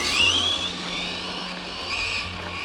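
A Typhon RC car running at full throttle, its high-pitched electric motor whine rising and holding over a steady rushing drone, heard from a moderate distance, with no speech.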